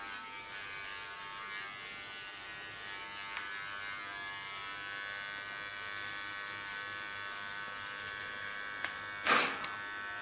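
A Theo electric hair clipper set to 0.5 millimeters shaves a head down to bald, buzzing steadily and close with small rattling ticks and a brief scraping burst near the end.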